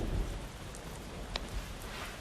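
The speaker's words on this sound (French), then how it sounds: "C'est quoi ce bruit? On dirait la pluie." Rain falling outdoors at night, a steady faint hiss of drops with a light tap or two, no voices.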